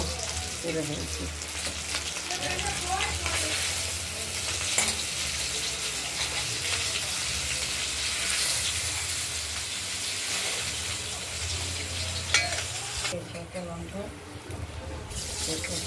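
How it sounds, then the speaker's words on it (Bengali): Koi fish (climbing perch) sizzle and crackle steadily in hot oil for a Bengali tel koi dish, a loud, continuous frying hiss that runs throughout with occasional spatters. "মাছগুলো ভাজা হয়ে গেছে, এবার এক এক করে তুলে নেব।"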